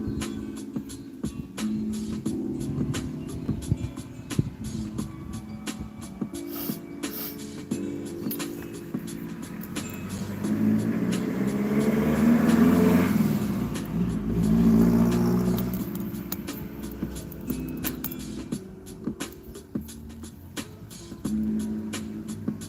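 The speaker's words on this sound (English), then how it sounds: "Buses and loud cars and stuff keep going past." Buses and loud cars driving past on a street, a continuous rumble of passing engines that swells to a loud revving peak in the middle, then eases back to steady traffic noise.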